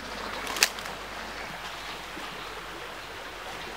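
A stream flowing through a rural garden gives a constant soft broadband rush, with one brief sharp click near the start.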